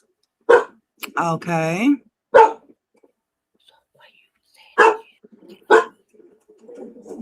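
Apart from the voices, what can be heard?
dog barking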